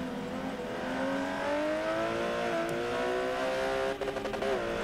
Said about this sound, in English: really revving out those gears